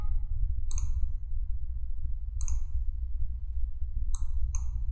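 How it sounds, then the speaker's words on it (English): Computer mouse clicks while opening a Windows 8 icon, four crisp, close clicks spaced irregularly, the last two coming in quick succession over a low steady background hum. "Then I just click it."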